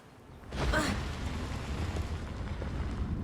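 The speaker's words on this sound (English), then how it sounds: "Earthquake." An earthquake rumbles in Assassin's Creed Valhalla: a sudden crash swells into a deep, sustained low roar with a crackling, grinding texture that carries on loudly to the end.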